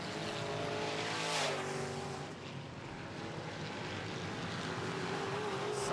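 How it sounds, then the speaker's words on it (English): Midwest Modified race cars racing side by side on a dirt oval, their engines roaring loudly at full throttle with a sweeping pass-by rising and falling, under the hum of the track. "Austin Hunter is not letting out of the throttle"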